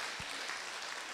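Applause in a Korean church praise-and-testimony gathering welcoming a gospel singer, a steady wash of many hands clapping at moderate distance, fairly soft and continuous with no voices over it.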